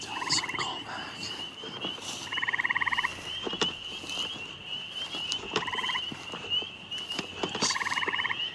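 Several gray tree frogs call in repeated bursts of croaking trills, some nearer and some farther, over a quiet night background with faint insects.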